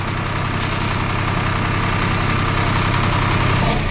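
A Swaraj 855 FE tractor engine idles close by with a steady low-pitched rumble and vibration, unchanging throughout and with no voices.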